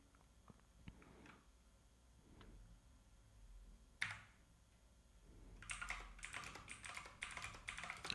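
Fingers tapping on a computer keyboard while entering values into a C program, scattered single keystrokes at first, then a fast, dense burst of typing near the end, close and fairly quiet.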